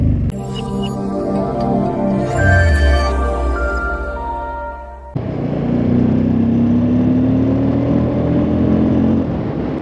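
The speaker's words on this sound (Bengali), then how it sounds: "বাইকের সাউন্ডটা কেমন লাগছে শটল দেওয়ার সময় একটু কমেন্ট করে জানাও তোমরা, কেমন একটা স্পোর্টি সাউন্ড আসছে কিনা" A Bajaj Pulsar N250 motorcycle engine revs loudly on a mountain road, climbing in pitch, cutting off abruptly, then settling into a steadier riding drone with wind noise.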